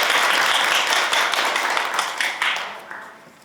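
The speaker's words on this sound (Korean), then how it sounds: "박수 부탁드립니다." Audience applause at a National Assembly forum on patient-safety education for nursing students: a dense burst of clapping that fades out over a few seconds.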